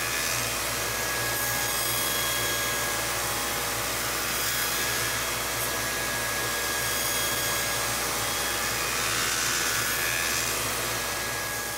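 Factory machines shaping a wooden airplane propeller give a continuous dense whirring and grinding roar, steady and close, with no pauses or voices.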